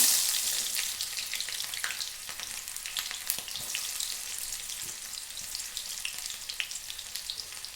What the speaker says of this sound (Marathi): आता कमी करून त्यामध्ये टाकते थोडंसं जिरं, मोहरी, कांदा.